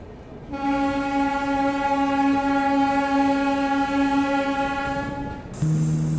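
The Tirupati–Jammu Tawi Hamsafar Express runs slowly past Amla station, sounding one long, steady, loud horn blast over a low rail rumble. The horn then cuts to a brief lower, two-tone sound near the end.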